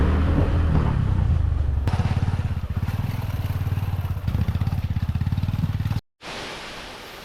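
Two motorbikes on a hill trail heading toward a forest near a waterfall in rainy weather, engines droning loudly and steadily close by with rhythmic putter and revving, cutting off abruptly near the end before resuming.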